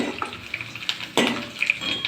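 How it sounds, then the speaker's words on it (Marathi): Mustard seeds, curry leaves, red chillies and garlic crackle and sizzle in hot oil with scattered pops, accompanied by a sharp clatter of a utensil against a pan midway. "फोडणी एकदम मस्त कडकडली आहे"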